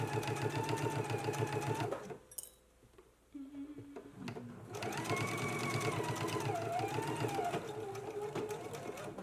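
A sewing machine fitted with a walking foot stitches jacket layers with a fast, steady mechanical whir. The run breaks off for about a second, a short clatter sounds during the pause, then stitching resumes with the motor's pitch shifting.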